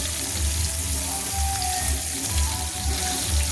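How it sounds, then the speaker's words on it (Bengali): Pieces of katla fish sizzle in hot oil over a medium flame, a dense continuous crackle and hiss close up with no talking. "এবার আমি মাছগুলোকে আরেক পিঠ উল্টে দিচ্ছি, দিয়ে আমি লাল লাল করে ভেজে নিচ্ছি"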